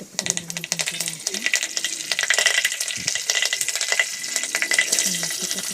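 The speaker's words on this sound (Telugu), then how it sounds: "కరివేపాకు, ఎండుమిరపకాయలు, ఎండుమిరపకాయలు 2 వేసి అది కూడా బాగా కొద్దిగా చిట్టపట్టలాడిన తర్వాత" Curry leaves and dried red chillies spluttering in hot oil while a huluvulu sambar is cooked, a busy crackling sizzle with dense pops running steadily throughout, fairly close, with faint background voice at moments.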